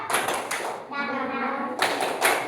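A group of children claps out an Indonesian 'tepuk semangat' clap chant in a classroom, with sharp bursts of close clapping at the start and end and a chanted voice carrying the middle.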